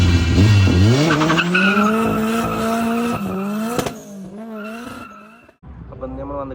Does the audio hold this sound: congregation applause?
no